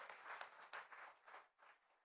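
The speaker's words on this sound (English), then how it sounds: "Let's give him a big round of applause" An audience applauds after a speech at an investors summit event in Ahmedabad, a faint, distant patter of clapping rising and dipping in uneven waves over about two seconds.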